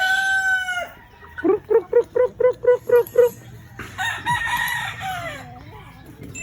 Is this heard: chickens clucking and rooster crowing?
yes